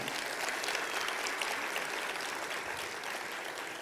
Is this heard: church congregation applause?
yes